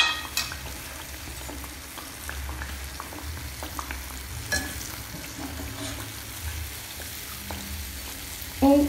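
Pieces of a honeyed pine-nut sweet fry in hot oil with a steady, close sizzle and occasional stirring clinks, ending in a louder clatter, with no voices.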